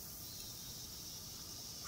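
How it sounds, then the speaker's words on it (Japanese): Cicadas drone in a steady, unbroken high buzz around a quiet seaside train station in the game Nostalgic Train, filling the scene at an even level. "変わらない蝉の声。"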